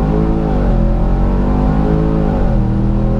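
A Range Rover Sport SVR engine, 2016 model, holds a loud, close, continuous rumble with a steady tone that dips slightly near the end, heard alone.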